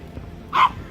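A dog gives a single short, sharp bark near a mountain lane in rural Korea, standing out clearly against quiet background noise.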